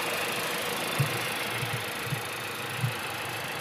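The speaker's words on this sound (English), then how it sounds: "So this is a 4-cylinder engine" Four-cylinder engine of a 2021-2023 Nissan Rogue SL, a front-wheel-drive SUV, idling steadily and faintly with a few soft knocks, heard alone.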